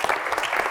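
An audience applauds the speakers at a security summit session, dense steady clapping filling the whole short stretch at moderate loudness with no voices over it.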